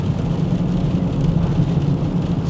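A deep, steady straight-pipe exhaust drone from a Mk4 Seat Leon FR holds a constant low rumble, loud and close, with no voices.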